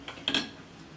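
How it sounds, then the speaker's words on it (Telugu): Spoon clinking against a pot while stirring boiled millet noodles, a few quick, faint metallic taps close by in an otherwise quiet kitchen. "దీంట్లోని గంజి పోయే వరకు ఈ విధంగా స్పూన్తో తిప్పాలి."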